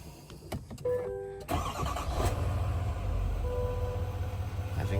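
A 2024 Chevrolet Duramax Denali truck engine cranking and firing up after a transmission pan install, a few short clicks and a brief crank, then a steady low rumbling idle that holds close and even.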